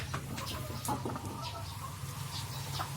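Breeding KUB and pelung chickens at Rapi Farm cluck in a henhouse, with short scattered clucks and calls over a steady low background hum, moderately near.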